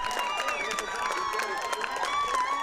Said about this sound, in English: The Franklin crowd is going a little crazy here tonight